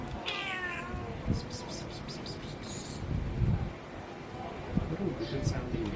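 A cat on a far-flung Tokyo island gives a short, rising meow near the start, with fainter cries later, heard under people talking nearby and outdoor background noise.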